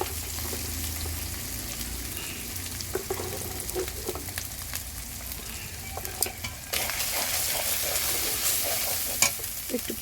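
Ground turmeric, chili and coriander frying with ginger-garlic paste in a pan, a steady sizzle with scraping stirs and a louder hiss near the end.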